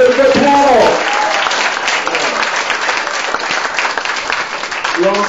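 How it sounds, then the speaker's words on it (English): An audience at a panel discussion breaks into loud, sustained applause, with a voice speaking briefly at the start and end. "Give them a rousing round of applause."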